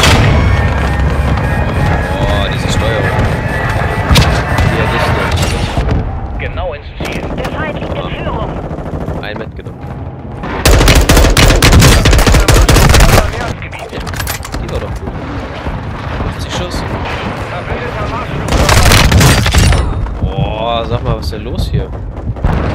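Call of Duty MW2 cruise missile strike: heavy booms and blasts rise in loud surges amid rattling machine-gun fire, alternating with quieter stretches, while someone talks in German over parts of it.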